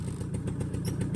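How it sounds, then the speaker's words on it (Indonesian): A 2002 Suzuki Bravo motorcycle engine idles nearby with a quick, even, rhythmic putter and faint clattering ticks, steady throughout. "Motor dihidupin tidak susah ya. Langsam stasioner."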